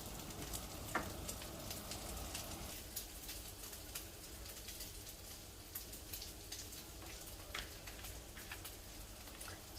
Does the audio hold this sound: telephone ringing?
no